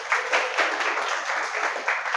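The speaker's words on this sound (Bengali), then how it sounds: "সবাই একটা হাততালি দাও।" Students in a classroom clap together for a classmate in a brisk, even burst of applause lasting about two seconds, close and uninterrupted, with no voices.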